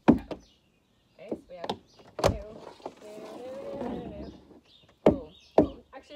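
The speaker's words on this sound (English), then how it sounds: "Then you're going to do two toe knocks." Tap shoe toe knocks on a floor during an adult online tap class, sharp percussive hits spaced apart, some doubled, with a person talking softly between them.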